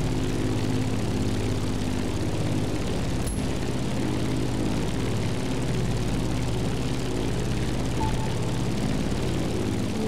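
A Chanceport F4U Corsair propeller plane in The Crew Motorfest drones with a steady, loud engine hum that holds an even pitch from start to finish.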